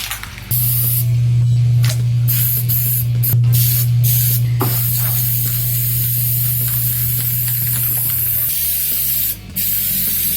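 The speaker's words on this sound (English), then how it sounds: "I'm not a very good spray painter because I do this." Aerosol spray can painting a vehicle part, a long continuous loud hiss with brief gaps and a steady low hum underneath, close to the microphone.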